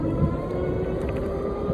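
A GT 54 electric dirt bike accelerates at full throttle, giving a steady, loud motor whir and rushing wind noise throughout, with no talk over it.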